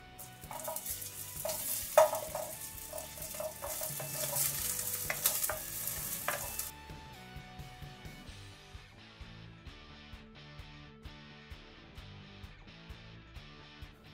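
Onion and garlic frying in a pan, a bright, loud sizzle with spatula scrapes and clicks against the pan that then settles into a quieter, softer hiss with occasional light taps.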